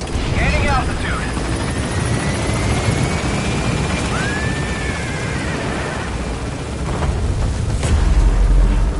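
In Metal Gear Solid V, a helicopter climbs with a loud, steady rotor roar under game music and a few dull booms, with a voice speaking briefly over it.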